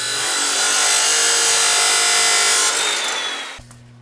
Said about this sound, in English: Now I'll cut the steel on my chop saw.